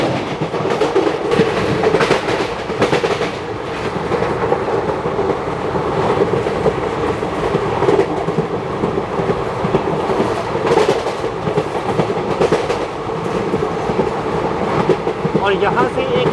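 A passenger train on the Delhi to Jodhpur line runs past Garhi Harsaru railway station, heard as a steady, loud rumble with a rhythmic clickety-clack of wheels on rail joints throughout.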